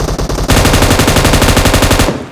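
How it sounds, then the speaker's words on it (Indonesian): Rapid automatic gunfire rattles very close and loud in a PUBG Mobile match, a steady burst of evenly spaced shots lasting under two seconds after a few lighter pops. "Perasaan suara senjatanya deket loh, Bang, di atas kepala kita."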